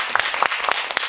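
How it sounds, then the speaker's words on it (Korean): Applause from the audience at a film screening Q&A for Insidious, a brief burst of many hands clapping that fills the room steadily and then fades out. "박수 부탁드립니다"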